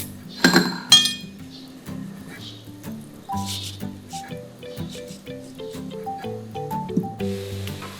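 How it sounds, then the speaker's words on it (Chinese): Baking powder being stirred into fermented pandan-coconut steamed cake batter in a bowl. Two sharp clinks at the start give way to soft, close squishing strokes with light utensil taps throughout. "然后把5克的泡打粉过筛进发酵好的面糊里，搅拌均匀"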